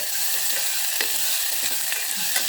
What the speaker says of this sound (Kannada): ಇದಕ್ಕೆ ಹೆಚ್ಚಿಟ್ಕೊಂಡಿದ್ದು ಈರುಳ್ಳಿ ಟೊಮೆಟೊ ಹಸಿಮೆಣಸಿನ್ಕಾಯಿ ಎಲ್ಲ ಹಾಕ್ತಾಯಿದ್ದೀನಿ ಹಾಕ್ಬಿಟ್ಟು ಚೆನ್ನಾಗಿ ಬಾಡ್ಕೊತಾ ಇದ್ದೀನಿ